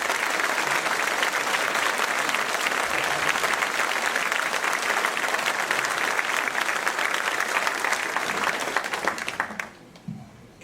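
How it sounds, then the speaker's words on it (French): A crowd at a mayor's New Year's wishes ceremony at Ouistreham Riva-Bella town hall gives warm, sustained applause, dense and even, before it thins and dies away near the end. "à ce qu'on applaudisse bien fort"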